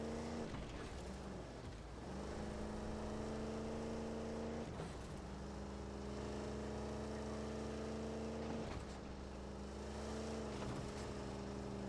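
A small, dumpy military truck drives in Halo: Campaign Evolved, its engine a steady low droning hum that rises and falls with gear-like shifts, continuous and moderately faint.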